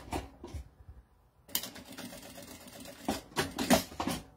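A sewing machine stitches a bag strap in short runs, close mechanical rattling bursts separated by brief pauses, steady and alone without talk.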